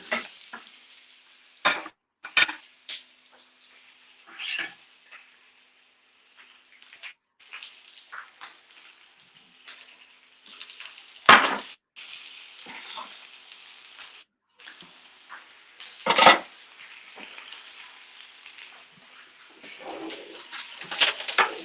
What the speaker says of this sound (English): the first thing I'm going to do is I'm going to do skin side down to char it